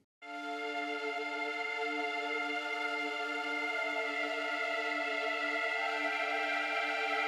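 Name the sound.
big wide synth pads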